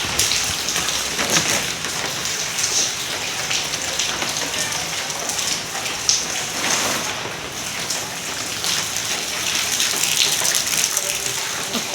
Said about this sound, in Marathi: आणि पाऊस काय थांबत नाही आहे.